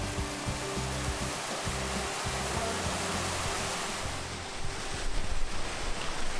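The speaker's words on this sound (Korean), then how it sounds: "이 바위 폭포에 마지막 물이 모였다가 이제 흘러가고" Water rushes steadily over rocks at a rock waterfall near a cave at Ein Gedi, Israel, in a continuous, full roar, close by, with a slightly choppier surge near the end.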